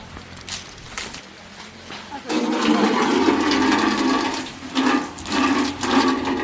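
Raw chicken being washed under running water for a straw-baked chicken dish: a soft rustle, then a steady loud gush of water splashing and sloshing with a few handling knocks and surges, no talk.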